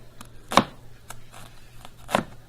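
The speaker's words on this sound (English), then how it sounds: "Let's remove this outside edge of our onion, keeping the root intact the whole time so the onion does not fall apart on you" Knife cutting through an onion on a cutting board in a foods class kitchen: two distinct crisp chops about a second and a half apart, close, with faint softer taps between and no talk.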